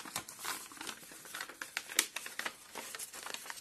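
Paper is creased and folded into an origami gift bag, giving a steady run of soft, close crinkling and rustling with brief sharp crackles, with no one speaking.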